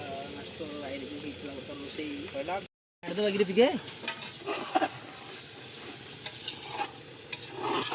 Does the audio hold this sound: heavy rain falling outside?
no